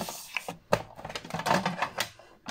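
A paper trimmer (massicot) cuts paper with a run of quick, dry clacks and rustles. The sound is close and moderately loud, with a sharp snap near the start, and no one speaks.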